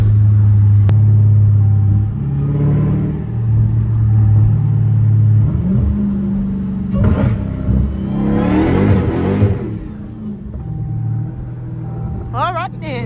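A supercharged Chrysler Hellcat engine rumbles and revs from inside the car, with deep sustained blips rising and falling, while someone talks over it.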